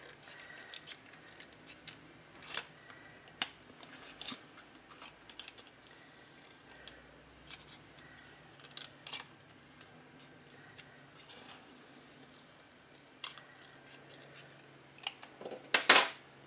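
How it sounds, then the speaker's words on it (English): Scissors snip quietly through Graphic 45 City Scapes paper in scattered bursts, trimming excess, with a few sharper crisp cuts and light handling noises. "Just slide your scissors right underneath there and cut the excess that you don't need off."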